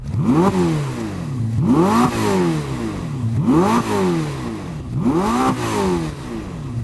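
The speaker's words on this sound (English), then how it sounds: "Rev up your car, Mark." A Lamborghini Temerario or Ferrari SF90 engine revs hard four times in a row, each rise climbing to a high whine before dropping back, loud and close.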